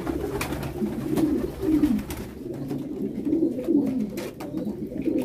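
A group of pigeons gathers at a water drinker, with soft throaty cooing repeating in low, rolling phrases. Faint rustling and clicks run underneath, steady and fairly close.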